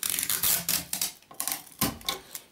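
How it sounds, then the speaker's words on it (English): Adhesive tape pulled off a roll in several short, crackly rips, close and fairly loud, with brief gaps between the pulls. "then you wanna tape the spider's legs onto the toilet roll like so"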